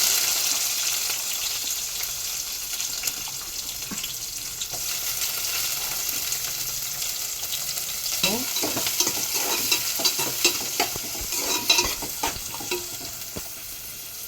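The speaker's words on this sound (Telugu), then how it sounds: "కరివేపాకు కొద్దిగా ఆన్లో పెట్టుకొని వేయించుకుందాం మనం" Tempering seeds, green chilies, onions and curry leaves fry in hot oil with a loud, constant crackling sizzle. Clattering spoon stirs and scrapes join in later, heard close and without talk.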